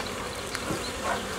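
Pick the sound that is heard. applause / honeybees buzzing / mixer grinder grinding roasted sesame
honeybees buzzing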